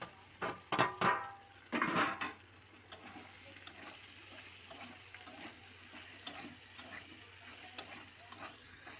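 Loud sizzling bursts at first as spices and chilli powder hit hot oil, then quieter frying with soft scraping of a spoon stirring.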